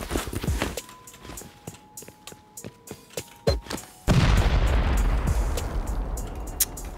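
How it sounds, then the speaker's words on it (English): A C4 charge detonates against a small sheet-metal base in a survival video game, a sudden loud blast that cuts off earlier scattered footsteps and clicks and leaves a sustained roaring rumble of debris. "Let's just go ahead and pop straight down into the center using some C4."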